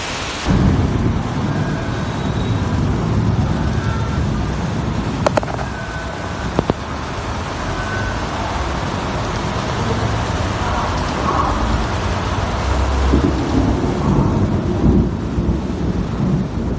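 Heavy monsoon rain pours steadily over a city during a storm, with rumbling thunder underneath and a few sharp cracks, loud and continuous throughout.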